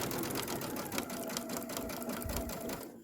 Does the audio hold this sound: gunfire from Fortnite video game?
no